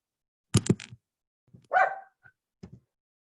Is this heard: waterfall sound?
no